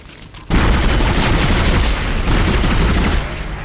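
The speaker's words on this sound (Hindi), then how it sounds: "पल्स राइफल ही निकाल के मारो" Pulse rifle fire in Dead Space, a sudden loud, dense burst of booming gunfire that keeps up continuously after a quiet start, with no talking.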